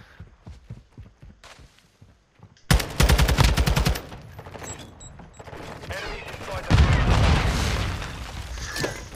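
M4 assault rifle fire in a Call of Duty Hardpoint match: after quiet footsteps, a loud rapid automatic burst rattles for over a second, then scattered shots and a second heavy volley of overlapping gunfire close by.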